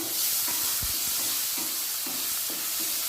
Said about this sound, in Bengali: মাঝারি সাইজের একটা টমেটো এভাবে একদম ছোট ছোট টুকরো করে কেটে নিয়েছি সেটা দিয়ে ভেজে নিচ্ছি